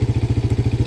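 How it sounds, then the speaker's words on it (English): A Can-Am DS90X engine revs as its throttle is twisted, close and loud, with a rapid, even throbbing pulse of firing strokes and no talk over it. "Let's give her a little rev check. Let's twist throttle here."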